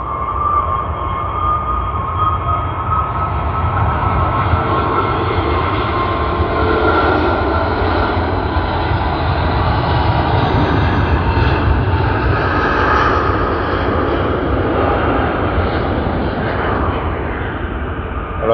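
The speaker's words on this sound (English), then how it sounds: "That's the first A380 departure of the day." Airbus A380 departing Sydney Airport, a loud sustained jet engine roar with a low rumbling body and slowly shifting tones, continuous and fairly near for the whole stretch.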